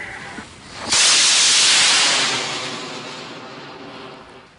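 A Class 2 Star Splitter model rocket ignites and launches with a sudden loud roaring hiss. The roar holds steady for about a second, then fades gradually as the rocket climbs away.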